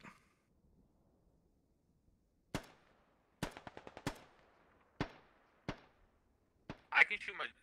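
Gunfire in the Squad video game: a string of sharp, separate shots cracks out at irregular intervals, some quick doubles and short bursts, echoing over a quiet background and ending in a louder, noisier burst.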